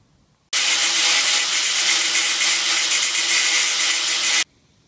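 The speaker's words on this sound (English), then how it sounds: "now time to cut out the template" A power tool cuts out a sheet-metal template, starting abruptly with a loud, harsh, steady grinding screech for about four seconds before cutting off into quiet.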